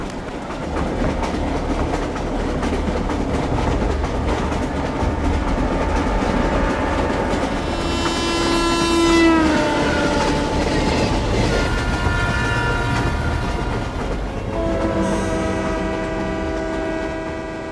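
A train rolls in steadily with continuous rumbling wheels and rail clatter, and a loud horn blast sounds midway; no voices.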